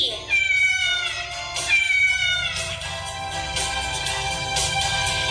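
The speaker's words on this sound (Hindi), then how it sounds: "बिल्ली।" A cat meows loudly several times, drawn-out wavering cries, close up and repeated.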